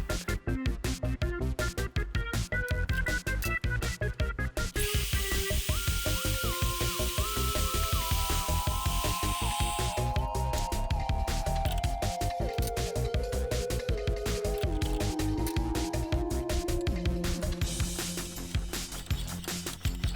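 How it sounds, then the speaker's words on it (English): A magnetic drill press bores a hole with a twist drill, its motor roaring under a harsh cutting hiss, with a squealing tone that slides and shifts in pitch as the bit feeds through the metal. "I can switch to the twist drill."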